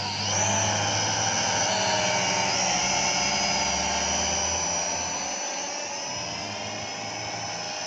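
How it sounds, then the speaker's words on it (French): A small Baichun BC5C drone hovers with a high, steady buzzing whine from its rotors, close and loud, its pitch shifting slightly as it moves. "Un petit drone assez sympa."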